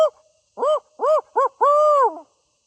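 A voice imitating a barred owl call on the Connecticut coast, several rhythmic hooting notes in short bursts ending with a longer drawn-out hoot, loud and close.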